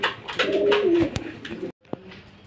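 Pigeons, including large tiger pigeons, coo close by in a short, throaty rolling call, followed by a brief pause and a softer second note with light rustling.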